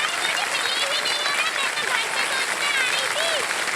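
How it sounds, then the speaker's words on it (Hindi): A game-show studio audience gives a standing ovation for a contestant's win, loud dense clapping filling the room continuously, with a host's voice speaking over the applause. "सब खड़े होकर के ताली बजा रहे हैं आपके लिए"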